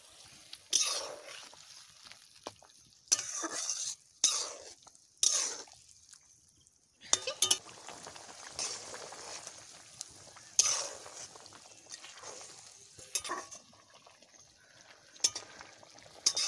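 Leafy greens, chili leaves for a vegetable curry, stirred in a hot pan with intermittent scraping strokes and a soft sizzle, with bursts of stirring separated by brief pauses, close by and moderately loud, without talk.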